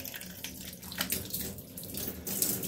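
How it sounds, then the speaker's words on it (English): Running water from a shower pours steadily and fairly softly, a continuous splashing wash with small surges, heard alone without voices. "in the shower that I'm in."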